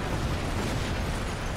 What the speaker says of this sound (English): There's a lot of explosions in the distance.